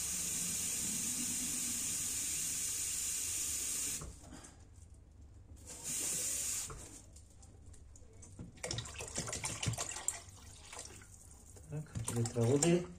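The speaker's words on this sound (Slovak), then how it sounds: "A teraz vodu. Tiež po pol litri." Tap water runs steadily into cooking pots while a meatball and tomato sauce dish is prepared in a kitchen, a broad hiss that breaks off and restarts, with clatter and handling noises near the end.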